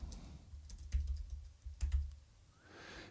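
Typing on a computer keyboard while naming exported session stems in music software, a quick run of close, crisp key clicks and thumps in irregular bursts, with no talking.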